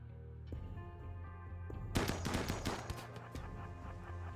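Gunfire in RimWorld rattles off as a cluster of rapid, overlapping shots over a low steady background hum, then fades into scattered softer pops.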